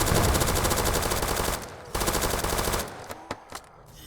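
Rapid sniper rifle gunfire in the Roblox game Zombie Uprising, loud and dense shots in steady bursts that break off, then a few scattered single shots near the end.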